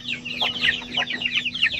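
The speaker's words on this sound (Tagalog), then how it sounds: "So yun po ang ating mga sisiw." A close, busy chorus of young zampen chicks peeping in high, rapid chirps, with steady overlapping calls and no talk.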